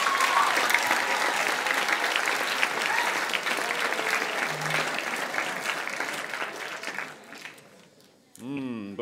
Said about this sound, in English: One more round of applause for the percussion ensemble.